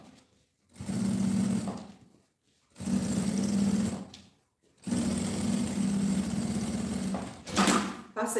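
Three separate runs of a sewing machine stitching the lining of a necessaire, each a steady close whirring hum lasting one to two seconds, with short quiet pauses between them.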